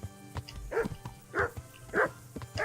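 A dog barks three times at a steady pace, in a medieval village near a blacksmith in the video game Kingdom Come: Deliverance, fairly close and clear above a low ambient game background.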